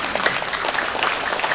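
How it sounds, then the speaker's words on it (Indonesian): A seated audience at a teachers' focus group discussion claps steadily and densely for a short stretch, a continuous even patter of many hands in a room. "Silakan tepuk tangan."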